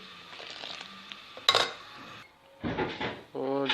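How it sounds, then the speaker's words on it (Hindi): Kashmiri kahwa being whisked hard in a pot: irregular scraping and clinking bursts of a whisk or spoon against metal, fairly close, with a louder clatter midway and a brief voice near the end. "इसको फेंटना ज़्यादा, जितना ज़्यादा फेंटेंगे इतना ज़बरदस्त कलर आएगा"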